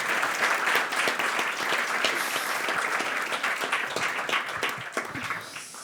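Live audience at a Catalan literary talk about Maria Aurèlia Capmany applauding warmly, a dense, sustained round of many hands clapping close and loud, gradually tapering off near the end with no voices.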